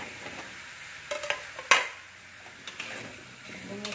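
Spiced chicken and potatoes sautéed in a pan, a soft frying hiss broken by a few sharp clinks and scrapes of a utensil against the pan, one clang standing out, close and moderately quiet.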